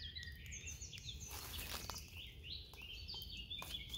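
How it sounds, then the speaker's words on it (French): Several birds chirp and trill overhead in a quiet outdoor setting, thin high calls overlapping against a soft, faint background. "Ça fait plaisir d'entendre tous ces oiseaux qui nous chantent la sérénade"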